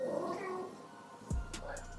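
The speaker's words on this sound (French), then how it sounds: "Avez-vous entendu le miaou?" A cat lets out a couple of meows close by, short whining calls separated by a brief pause.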